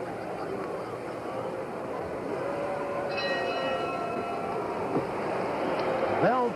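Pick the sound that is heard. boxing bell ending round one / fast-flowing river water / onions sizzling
boxing bell ending round one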